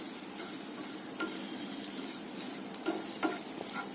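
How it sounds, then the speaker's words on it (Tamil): Filling ingredients for palm jaggery somas sauté in ghee in a pan, a soft continuous sizzle with occasional scraping stirs of a spoon, close and fairly quiet, with no talking. "இந்த ஈரம் போற மாதிரி கொஞ்சம் நல்லா நெய் ஊத்தி வதக்கிக்கோங்க."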